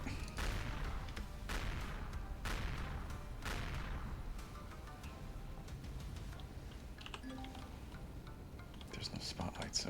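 Gunfire from a space combat game, orbital patrol vessels fighting, comes as a dense run of sharp shots and blasts in the opening seconds, then settles into a steady rumbling battle bed with scattered clicks.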